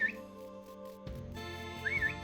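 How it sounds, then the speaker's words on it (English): A player's whistle in the farming game Dinkum calls pets: two short rising whistle tones, one at the very start and one near the end, over steady game music. "you can whistle and they'll come"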